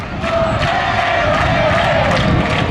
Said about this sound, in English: The crowd's really getting into it here.